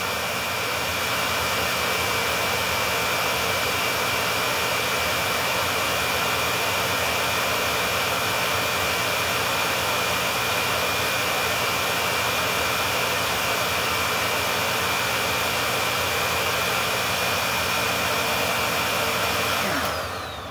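A Shark ZU560 Lift-Away vacuum cleaner running at maximum setting gives a loud, steady, high-pitched motor whine that holds unchanged for about twenty seconds before cutting off at the end.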